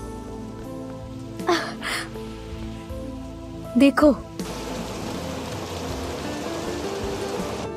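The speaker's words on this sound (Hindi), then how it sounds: "ये इस तरह बारिश में क्यों भीग रहा है?" Steady rain pours down outdoors in a drama scene, a dense hiss that grows heavier midway, while people talk briefly over it.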